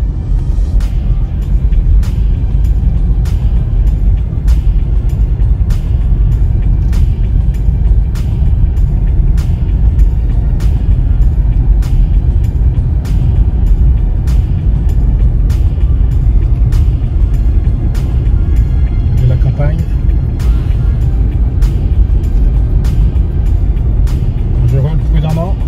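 A Nissan Ariya electric SUV drives at night, its cabin filled with a steady low road rumble and regular faint ticks, while a voice talks over the drive.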